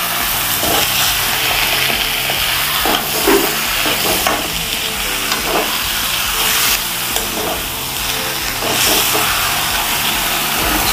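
Coriander chicken sizzles loudly in a pan on medium flame, a continuous hissing fry with repeated scraping strokes as it is stirred and mixed, close and unbroken.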